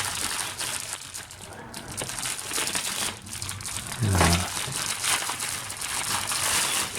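Plastic parts bag crinkling and rustling as pieces of a small-scale model kit are taken out, a steady close crackle running throughout with a brief low thump near the middle.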